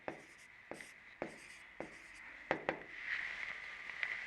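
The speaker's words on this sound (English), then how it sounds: "So let me write the 3 ratios here." Pen or pencil strokes scratch across paper in short separate bursts, a few quick marks and then a longer run of writing, close and clear with no talking.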